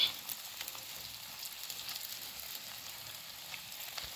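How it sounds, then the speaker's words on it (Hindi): Bread rolls frying in hot oil while being turned, a faint, steady crackling sizzle with scattered small pops, heard alone. "उलटते पलटते ऐसे ब्रेडों को अच्छे से फ्राई कर लेंगे"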